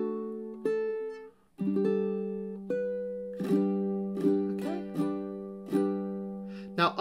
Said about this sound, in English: So that measure sounds like this.